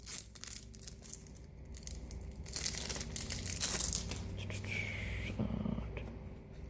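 Plastic and cardboard packaging of a Transformers card game starter set being torn and crinkled open, with close crackling and ripping rustles, soft whispery noises running through.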